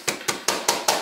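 A knife blade repeatedly strikes raw pork on a board to tenderize it, five sharp, evenly spaced chopping thuds in about a second, loud and close, with no talking.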